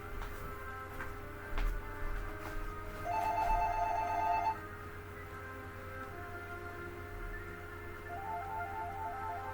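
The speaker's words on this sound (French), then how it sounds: "Le téléphone sonne." A telephone rings in a quiet room with a steady electronic hum, giving a brief burst of trilling tones followed later by a fainter second ring.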